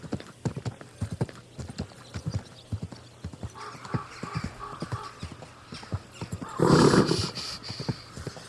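Horse hooves clip-clopping at a steady walk in Kingdom Come Deliverance 2, clear, evenly spaced thuds close by, with a brief louder burst of a snort or whinny near the end.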